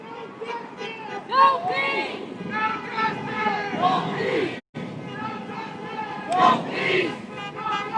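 A protest crowd closing in, with a dense babble of many shouting voices and chanted cries that swell and fall in waves, fairly close, with a brief drop-out midway.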